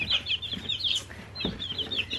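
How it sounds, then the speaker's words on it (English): Friendly young baby chicks make a run of quick, high chirping peeps, close by and steady, with no voices over them. "I've had some really friendly baby chicks."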